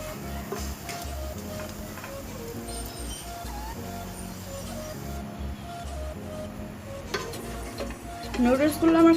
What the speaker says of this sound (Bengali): নুডলসগুলো আমি ভালো করে কষিয়ে নেব।